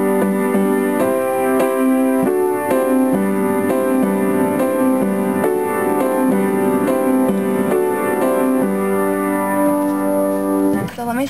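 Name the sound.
piano playing the intro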